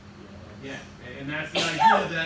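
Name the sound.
sneeze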